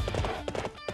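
A horse in the video game Hyrule Warriors clip-clops in quick, close hoof beats over a short run, with a low musical bed underneath.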